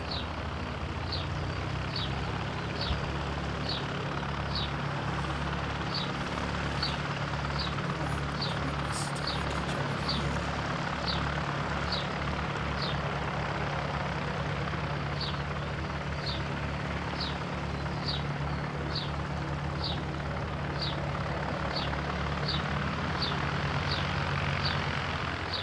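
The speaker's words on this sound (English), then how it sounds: "And we've got a pushback on Christchurch to Auckland, 5:36." An airliner pushes back at Christchurch for a flight to Auckland: a steady low engine and ground-equipment drone runs throughout, with a regular series of faint, high ticks in two bursts on top.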